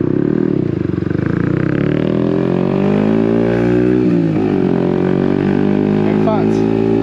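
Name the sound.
Yamaha XSR 125 motorcycle exhaust while riding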